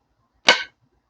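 A Gerber Flatiron knife chops into wood, a single sharp, close impact thwack with a quick decay.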